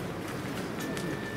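Pigeons at a winter bird market in Prokhladny give faint, soft cooing calls over a dense crowd-and-market murmur in a very short stretch.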